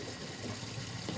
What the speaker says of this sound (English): I just have the water running